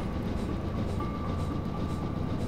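Train in Train Simulator 2014 rolling through a tunnel, a steady, dense low rumble with a faint whine, reverberant and continuous with no voices.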